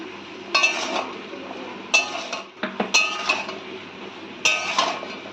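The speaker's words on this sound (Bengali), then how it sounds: "এবার ভালো করে সমস্ত কিছু মশলাপাতি একসঙ্গে সবজির সঙ্গে মিশিয়ে নেবো" Vegetables with jackfruit seeds, red amaranth stems, potato, pointed gourd and ridge gourd being stirred with spices in a pan, heard as several bursts of metallic scraping and clinking from a spoon against the pan, close and fairly loud, with no talking.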